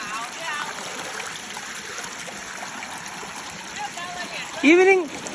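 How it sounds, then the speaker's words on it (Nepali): Steady broadband water rushing of a flowing stream throughout, with a brief louder splash or chirp-like burst near the end. "यहाँ खोला"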